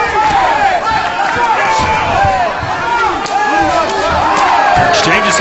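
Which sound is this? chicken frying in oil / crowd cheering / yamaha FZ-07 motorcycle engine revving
crowd cheering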